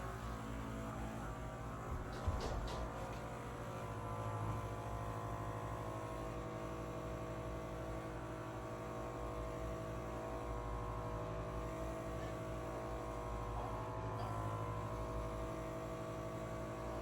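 Homedics Percussion Action Plus massager running at its highest setting with heat on, a continuous droning motor buzz with steady tonal hum, unbroken and fairly close.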